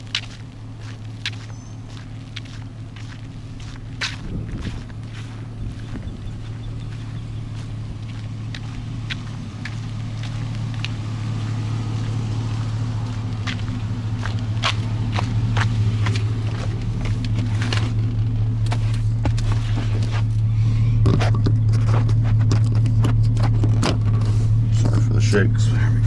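A truck pulls out onto Perdido Key Drive in Florida, its steady engine and road rumble heard from inside the cab, slowly growing louder over the whole stretch with scattered small knocks and rattles.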